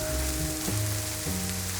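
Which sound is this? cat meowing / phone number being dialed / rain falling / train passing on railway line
rain falling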